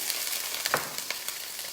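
Frozen crackling and chopped onion sizzle and crackle steadily in a hot pan, a dense hiss with scattered sharp pops, loud and close with no voices.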